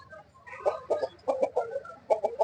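A tall black rooster offered for sale gives a series of close, loud clucking calls in short bursts, with no talking.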